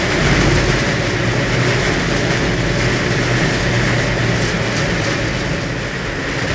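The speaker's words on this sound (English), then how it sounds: "I am not enamored with the stability of this cart on the cable." A cable car cabin runs along its cable in Jardín, Colombia, making a loud, constant rumbling drone with a steady whir that holds for several seconds without a break.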